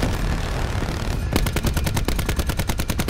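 Rapid automatic gunfire in Call of Duty: Black Ops 4 multiplayer, loud and close, with a steady rhythmic burst of shots following a dense blast of noise.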